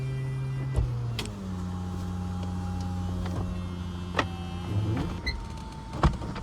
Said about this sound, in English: you've got the rear pillar windows as well going up